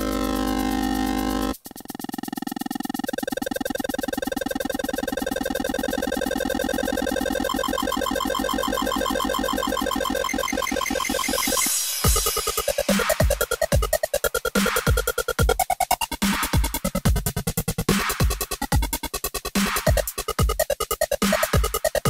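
Chiptune-style synth built in Reason 6.5.3, a buzzy square-wave tone holding steady, then breaking into a rapid pulsing arpeggiated pattern of fast choppy notes, loud and continuous with no voices.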